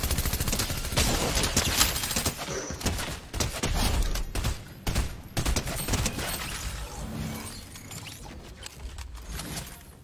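Rapid bursts of video game gunfire from a shotgun and an SMG ring out loud and dense, with mechanical clacks between volleys over roughly ten seconds and no talk over them.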